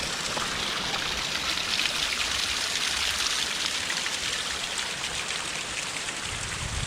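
A small waterfall on the Turkey Path Trail in Pennsylvania's Grand Canyon, swollen after recent rain, gives a steady, dense hiss of rushing, splashing water, close and continuous with no voices.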